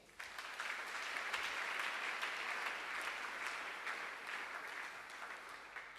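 A church congregation claps and cheers together for several seconds, a dense, steady wash of applause heard from within the crowd, rising quickly at the start and holding level.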